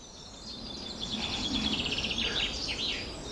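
Faint, fast twittering birdsong drifts in over soft outdoor background noise, a few birds chirping in bursts, with no talking.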